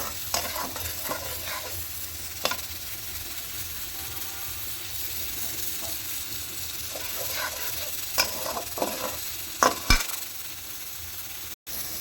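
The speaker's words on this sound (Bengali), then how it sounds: "এবার আমি দিয়ে দেবো টমেটো পেস্টটা। সুন্দর করে এটাকে কষে নেব।" Tomato paste frying and being stirred with spices and potatoes for a vegetarian potato dish, a steady low sizzle with scraping spoon strokes against the pan and occasional sharper clinks, close and continuous with no talking.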